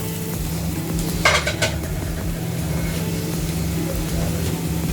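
Sardines drop into a pan of fried coconut mixture, giving a steady low sizzle with a short clatter of utensil against the pan early on, close and even throughout.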